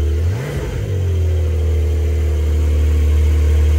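A car engine is revved hard, rising briefly in pitch before settling into a loud, steady high-idle drone, close by with no talking.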